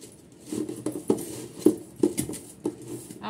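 A utensil stirring food in a cooking pot, giving soft scraping movement and a few light metallic clinks at uneven intervals, fairly close and without speech.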